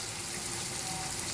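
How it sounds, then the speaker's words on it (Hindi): Mutton stock (yakhni) being poured into a cooking pot for pulao, a steady, faint rushing pour with a light sizzle underneath, continuous and without talk. "और यखनी शामिल करेंगे।"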